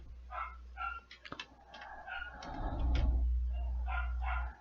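A house with four dogs, with muffled barks coming from another room in short bursts, faint and somewhat distant, over a steady low hum and some rustling and knocking.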